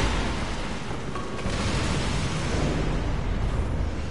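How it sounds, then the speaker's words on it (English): A big explosion in Assassin's Creed: Revelations roars as a loud, dense wall of rumbling noise that holds steady for several seconds without a distinct attack, with no voices over it. "It's a big explosion."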